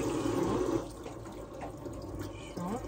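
Water runs steadily from a kitchen tap into a sink, a close, continuous splashing rush that eases slightly partway through.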